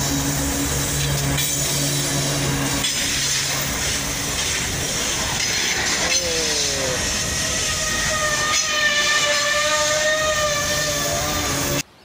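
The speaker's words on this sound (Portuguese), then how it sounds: "Já passou os dois trem." Two trains passing along a railway line, a continuous loud rumble and clatter of wagons with squealing wheels and hiss, steady throughout before cutting off abruptly at the end.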